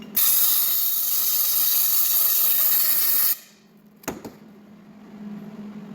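Compressed air blasts loudly and steadily into a custom full front bumper to clear loose metal pieces, a continuous close hiss lasting about three seconds, then cutting off to quiet with one short puff afterward.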